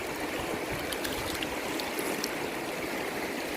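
A mountain stream near the Bhutan border in Chirang rushes steadily over its bed, a close, continuous wash of flowing water with no voices.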